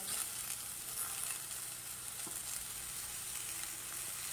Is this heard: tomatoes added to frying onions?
yes